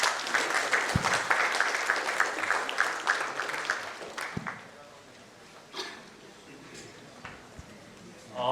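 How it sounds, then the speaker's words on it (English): Audience applause welcoming a speaker onstage at a learning and development summit and awards event, loud and dense for about four seconds, then thinning out into scattered claps and faint room noise. "Can we welcome him with a big round of applause, please?"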